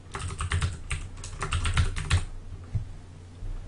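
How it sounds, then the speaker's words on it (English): Loud clacking on a computer keyboard, with rapid bursts of keystrokes for about two seconds, then a few scattered taps over quieter room tone. The typing sits close to the microphone. "I might just mute this loud typing if that's okay."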